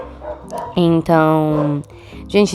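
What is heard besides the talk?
dog barking at a passing horse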